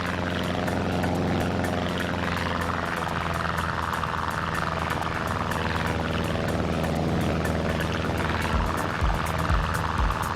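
A Miles Hawk Speed Six propeller engine in a flight simulator game drones steadily, a loud continuous buzzing hum with a rhythmic propeller beat that holds throughout with no talking.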